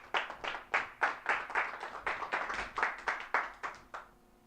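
Church congregation clapping in unison for the Lord, a series of about fifteen strong, evenly spaced rhythmic claps that end abruptly, loud and close.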